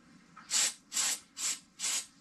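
Lubricant is sprayed into the cable housing of a Shimano Deore 5100 11-speed bicycle shifter. Four short, sharp hissing bursts come at an even pace, close and moderately loud, with brief quiet gaps between them.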